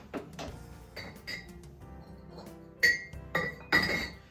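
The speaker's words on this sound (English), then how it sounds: "So I'm gonna pull it out, pour it into this glass, and get right into it." Bourbon is poured into a Glencairn whisky glass, with soft liquid sounds and light handling followed by several sharp, close glass clinks toward the end.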